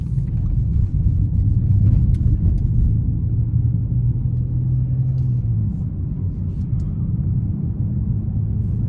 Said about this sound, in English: So the tires are on the loud side